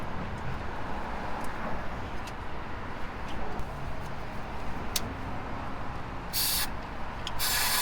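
Carb cleaner sprays from a can onto a slant six engine in short hissing bursts, the longest near the end, over a rumbling, scraping background.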